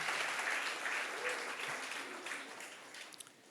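A church congregation claps together for a sustained spell, a dense wash of applause at moderate distance that slowly thins and tails off into a few scattered claps at the end.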